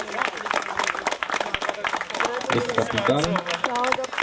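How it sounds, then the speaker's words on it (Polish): Applause and crowd noise for an amateur team at a Gazeta Olsztyńska wild-teams tournament, steady and moderately loud throughout while voices talk and call out over it. "Wielkie, wielkie, wielkie brawa."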